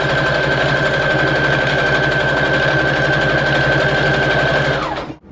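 A sewing machine stitches a junk journal, running in a steady, loud, rapid mechanical whir with a constant tone, then winding down and stopping abruptly at the end.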